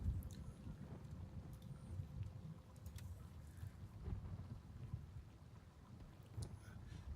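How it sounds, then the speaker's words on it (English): Steady rain with low rumbling thunder in the military shooter game Gray Zone Warfare, a continuous wash of downpour and deep rolls filling the whole stretch without talk. "As nice as that rain sound is,"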